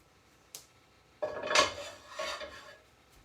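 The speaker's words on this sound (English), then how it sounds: "And we will wipe out our pan. With the excess oil and breadcrumbs and whatnot." A frying pan being wiped out of excess oil and breadcrumbs: a light tap, then scraping and rubbing sweeps of cloth or paper against the metal pan, close by, in two short bursts with no talking.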